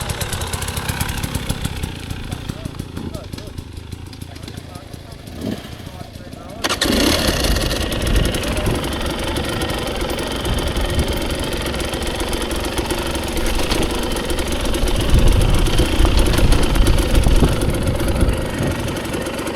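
Dirt motorcycle engine on a wet, muddy trail, running steadily and rising in intensity as the rider pulls away, loud and close with someone talking over it.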